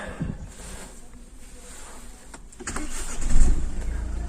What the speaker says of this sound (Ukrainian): Машинка хорошо заводиться.